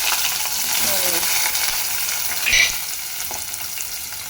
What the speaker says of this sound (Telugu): ఈ ఆనియన్స్ అన్నీ కూడా కొంచెం కలర్ చేంజ్ అయ్యే వరకు మనము వేయించుకోవాలి.